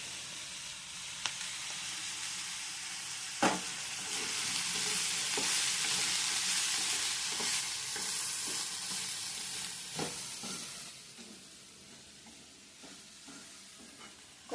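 Okra frying with onions and curry leaves in a pan gives a steady sizzle, and a utensil scrapes through it in intermittent stirs, loud and close with no talk.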